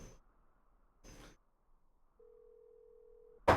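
Unanswered telephone call in the Syberia II video game: two short ring bursts a second apart, then a long steady tone, ending in a sharp loud burst, with no voices.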